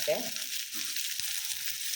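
Onion sizzles in hot coconut oil with a soft, even hiss, with a faint clink of a utensil at the start, quiet and close.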